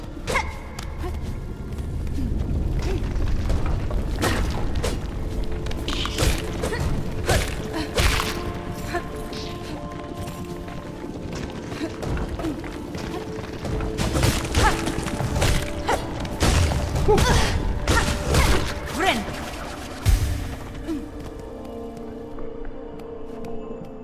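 Stone cairns are smashed in Hollow Knight: Silksong with a run of whacks, thuds and crumbling crashes, mixed with swishing strikes and steady game ambience, fairly loud and continuous without a clear pause.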